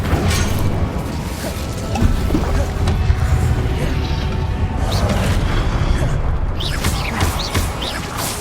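Spell effects from the Hogwarts Legacy video game, including a fiery Incendio cast, crackle and whoosh amid dense, steady battle noise with dull thuds and a sharp crash near the two-second mark, loud and continuous throughout.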